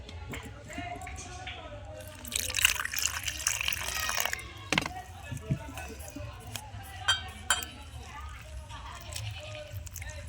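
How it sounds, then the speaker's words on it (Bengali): Water is poured into a bowl of cornflour and salt and stirred into a batter for tomato chops, giving steady liquid splashing and mixing noises under continuous talk. "এবার আমি জল দিয়ে গুলে নেব।"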